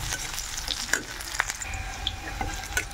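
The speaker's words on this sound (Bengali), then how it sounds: "পেঁয়াজ ভাজা হয়ে গেছে" Onions sizzle in a pan with a little ginger paste, a continuous close frying hiss with scattered scrapes and taps of a stirring spoon.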